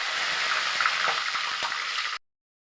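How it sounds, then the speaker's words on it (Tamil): Mustard seeds hissing and spluttering in about a quarter litre of hot oil, a dense steady crackle with sharp pops scattered through it, close and loud, then cutting off abruptly. "ஒரு கால் லிட்டர் எண்ணெய் கிட்டே இருக்க ஊற்றிருக்கேன் கடுகு போட்டுக்கலாம்"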